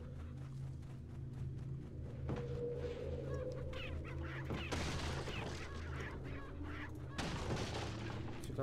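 Chickens clucking in Resident Evil 4 HD, faint scattered clucks and squawks over a steady low ambient hum, with a couple of sharper bangs mixed in.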